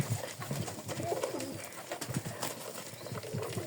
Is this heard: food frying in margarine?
no